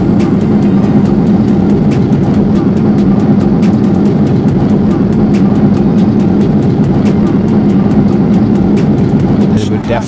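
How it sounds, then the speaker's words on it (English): A loud, steady jet engine roar of reverse thrust on landing fills the cabin of a Boeing 737, a sustained rushing rumble heard from inside the aircraft. "that is the loudest reverse thrust I think I've ever heard in my life"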